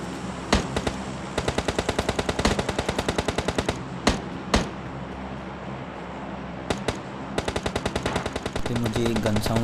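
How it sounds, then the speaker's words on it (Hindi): Rapid automatic gunfire from the PUBG Lite battle royale game, several long bursts of closely spaced shots with brief pauses and a few single loud cracks, fairly close and loud throughout. "मुझे गन साउंड तो बहुत आ रहे थे"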